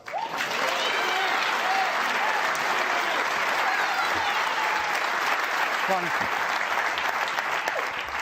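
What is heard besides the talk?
audience applause at snooker match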